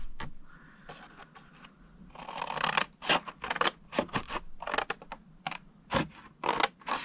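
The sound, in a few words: cutting cardstock along a score line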